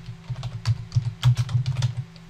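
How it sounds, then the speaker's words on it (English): Keys clack on a computer keyboard in a quick, uneven burst of close, crisp taps, with brief pauses between clusters of strokes. "I go to the to field and I start typing in the name of the group."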